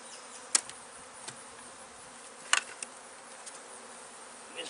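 Bees drone steadily around an opened beehive, a faint continuous buzz close by, broken by a couple of sharp clicks or knocks.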